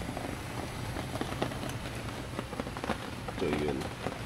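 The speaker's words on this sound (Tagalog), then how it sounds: "Umuulan pa rin." Rain keeps falling on a campsite, a steady patter with scattered sharper drops striking surfaces close by, continuing under soft background sounds with a brief voice-like murmur near the end.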